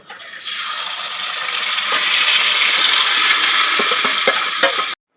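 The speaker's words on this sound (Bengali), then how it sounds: "এবারে ম্যারিনেটেড চিকেনটা এর মধ্যে ঢেলে দেবো" Marinated chicken tipped into a hot pan of oil with cinnamon, cardamom, cloves, cumin and mace, bursting into a loud, close, continuous hissing sizzle that stays steady, with a few scraping clicks near the end before it cuts off.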